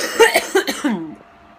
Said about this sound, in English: I'm more productive each time I cough.